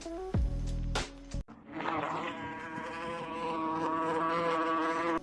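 Close buzzing of flying wasps, a wavering droning hum that shifts in pitch as they move, preceded by a few brief tonal sound effects.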